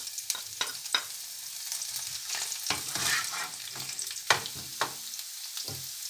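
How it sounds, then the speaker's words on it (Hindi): Onions fry in leftover oil for a samosa filling, a soft steady sizzle broken by repeated clinks and scrapes of a stirring spoon in the pan, with no talking. "इसमें अब डालेंगे हम ये प्याज थोड़ी सी, इसका हल्का बस नरम करेंगे इसको।"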